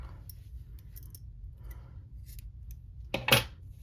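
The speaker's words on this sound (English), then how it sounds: "I am just going to cut my yarn" Scissors snip through yarn during a crochet flower bookmark project, a single crisp, close cut after quiet handling noises.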